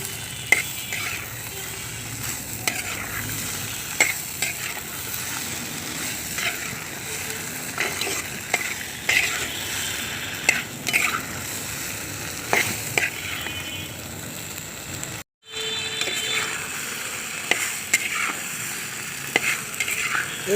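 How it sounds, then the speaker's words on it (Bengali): Taro stolons being stirred and fried with spices in a pan: continuous near sizzling with repeated scraping stirring strokes, briefly cutting out for a moment before resuming, with no voices. "এইভাবে ভালোভাবে নেড়ে চেড়ে আমি মশলাটা কষিয়ে নিব যতক্ষণ না মশলার গন্ধ যায়"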